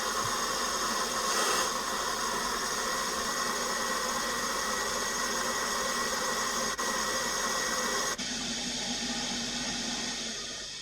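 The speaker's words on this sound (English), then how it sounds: "Blower motor's running." A Doyon JA28G oven's blower motor runs steadily while the oven heats, a loud, even mechanical whir with broadband rush that holds throughout and changes tone slightly near the end.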